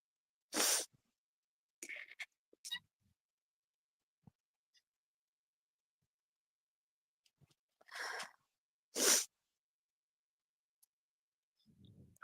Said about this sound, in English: need to stop sneezing.